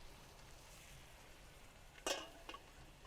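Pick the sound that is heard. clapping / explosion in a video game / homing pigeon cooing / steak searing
steak searing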